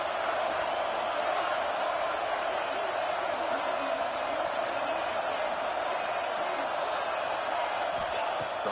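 Stadium crowd in a college football video game, Texas versus Texas A&M on third down: a dense, steady roar of cheering that sustains evenly throughout with no letup, no voices standing out.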